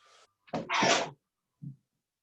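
A single sharp sneeze bursts out loud and close during a class lecture, followed a moment later by a short faint sound, then silence.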